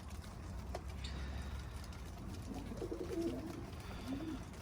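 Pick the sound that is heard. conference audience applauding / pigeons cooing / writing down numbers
pigeons cooing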